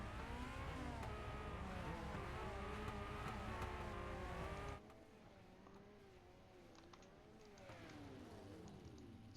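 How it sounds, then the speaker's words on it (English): Rallycross race car engines rev and drone loudly with wavering pitch at Echo Park Speedway, then the roar drops to a lower, more distant rumble with a few sharp clicks. "as they rev the motors up, as they get the cars ready to reel and deal"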